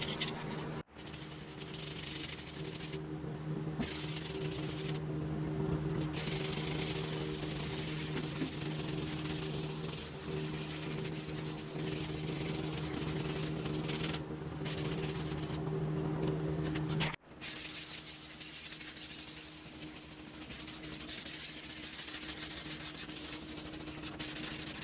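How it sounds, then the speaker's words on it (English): Steady, continuous sanding on the body of a 1969 VW Bug during restoration, a loud unbroken abrasive rasp with a droning motor hum, briefly interrupted once near the start and again later. "We're going to be doing some sanding."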